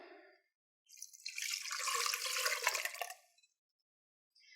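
Barbecue sauce mixed with broth pours into a slow cooker, a steady liquid splashing and trickling for about two and a half seconds, close and moderately loud, with brief quiet before and after.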